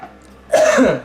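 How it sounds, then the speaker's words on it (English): One short, harsh cough bursts out after a moment of quiet, close and fairly loud, then fades. "I'll cough just to get that full breath out"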